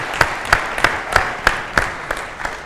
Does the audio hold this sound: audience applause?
yes